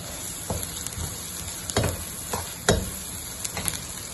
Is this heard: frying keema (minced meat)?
yes